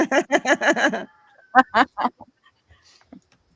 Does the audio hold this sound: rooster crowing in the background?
yes